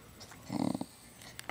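A dog gives a short, soft whimpering snort with breathing, one brief close burst in an otherwise quiet moment.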